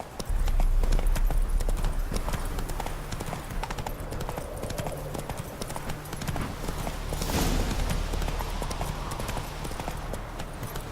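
Roach the horse ridden in The Witcher 3, hooves clip-clopping in a steady continuous rhythm at close range, with a brief voice at the start.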